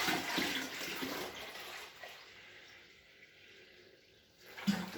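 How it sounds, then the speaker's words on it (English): Cold water pours into a fermenting bucket for a popcorn whiskey mash, a steady splashing rush that is loudest at the start and eases to a softer trickle before stopping. "Alright, so some cold water goes in."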